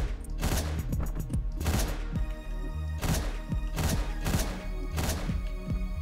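Rapid gunfire from the Hotline Miami video game: loud, close, punchy shots in quick volleys, sometimes fused into bursts, over a steady layer of game music.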